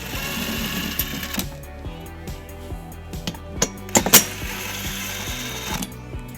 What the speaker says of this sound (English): We're going to remove those bolts using a 10mm socket.